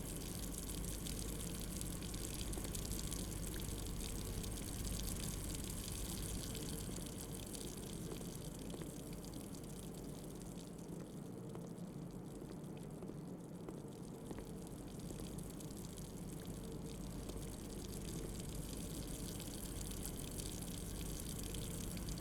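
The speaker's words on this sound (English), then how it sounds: "Why can you turn his faucet on and off?" Faucet water running in the video game Blue Prince, a continuous gushing stream that stays steady and fairly loud throughout, with a slight dip midway.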